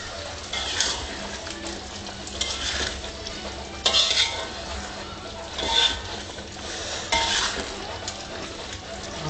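Simmering chicken masala with potato in a pot, stirred with a utensil: scraping, clinking strokes come in bursts over a soft, steady bubbling sizzle.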